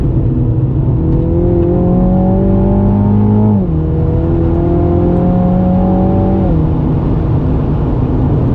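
A Mini Cooper F56 GP3 accelerates hard on a race track, its loud engine note climbing steadily, dropping sharply at each of two upshifts, then rising again, close and continuous throughout.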